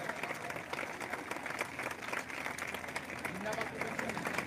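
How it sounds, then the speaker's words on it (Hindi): Audience clapping at a political party's 13th foundation day gathering in Bastar, a dense steady patter of many hands that runs the whole time, with a crowd murmuring beneath it. "तालियों से स्वागत, तालियां बजती रहनी चाहिए।"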